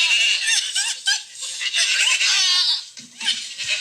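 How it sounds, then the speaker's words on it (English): Goats shriek in loud, wavering, bleating screams that sound almost like human laughter, with repeated rapid cries and a brief low bleat near the end. "I do want you guys to hear goats screaming"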